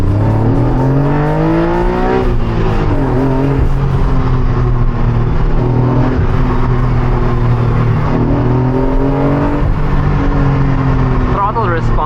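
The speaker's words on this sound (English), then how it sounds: "Throttle response is actually good for a naturally aspirated car" A naturally aspirated Honda NSX engine accelerates steadily, a loud sustained drone rising and falling in pitch through long gears, with a voice speaking over it throughout.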